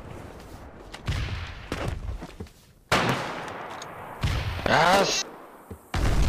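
Grenade explosions and gunfire in the WWII video game Foxhole come as several loud, abrupt bursts and cracks, scattered between a player's brief spoken words.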